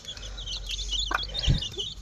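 Young broiler chicks, about two weeks old, cheep and peep in a busy chorus at close range, with a couple of low soft clucks mixed in over a low background hum.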